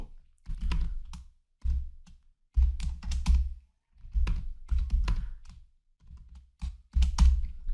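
C code, a for loop, is typed on a computer keyboard in quick bursts of close, crisp keystrokes separated by short pauses.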